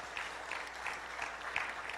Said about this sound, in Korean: 은혜로운 찬양으로 은혜를 끼쳐주신 엠하프단에게 우리 감사의 박수 한번 보내드리겠습니다